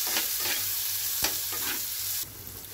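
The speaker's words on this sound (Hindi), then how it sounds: "अब इसमें जो काटा हुआ टमाटो और कांदा है वो दे देता हूँ। अब इसको अच्छे से मिक्स कर देता हूँ।" Chopped tomato and onion fry in a pan with a steady, close sizzle, broken by several brisk scraping strokes as a spoon stirs and mixes them.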